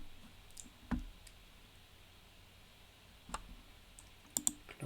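A few sparse, quiet computer mouse clicks at irregular intervals against a faint, hushed room background.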